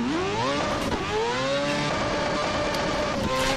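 A car engine in the Assetto Corsa racing game bouncing off its rev limiter, a loud buzzing engine note that climbs then stutters and chops repeatedly at the top of its range, close and continuous.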